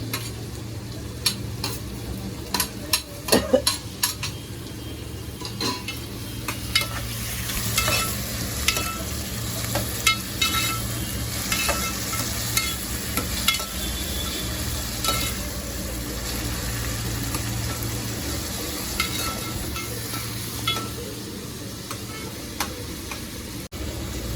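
Tomatoes fry in a pan with a steady sizzle under occasional scraping and clinks of a stirring spoon. The sound stays close and even throughout, with no talking.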